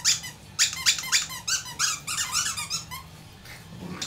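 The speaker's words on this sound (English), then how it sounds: "you got it to squeak" A squeaky dog toy is chewed in rapid, irregular squeaks, over a dozen bright chirps in quick succession, close and loud with no talk over them.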